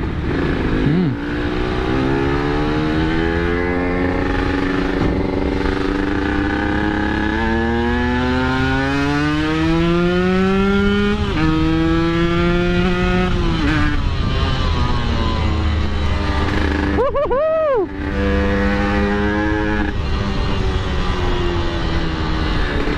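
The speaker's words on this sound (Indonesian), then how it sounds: "Ini knalpot kalau udah dibecok bacotnya kenceng banget" A Yamaha RX King two-stroke motorcycle revs loudly and close up through its exhaust, pitch climbing and falling in repeated throttle blips, with one sharp high rev near the end.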